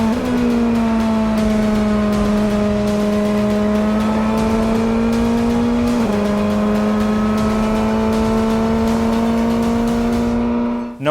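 A Ferrari race car engine screams at sustained high revs on the Spa Francorchamps circuit, loud and close in onboard fashion, holding a steady pitch with one brief shift dip midway.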